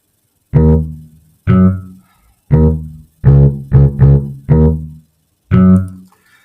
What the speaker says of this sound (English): So I've used 3 notes to make a bass line that sounds like this.